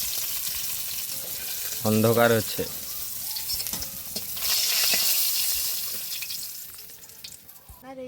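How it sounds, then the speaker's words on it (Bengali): Pabda fish frying in oil in a pan over an outdoor wood stove, a steady broad sizzle running throughout with a short burst of speech and some stirring in the middle. "টকের জন্য মাছটা পুরোপুরি ভাজা হয়ে গেছে"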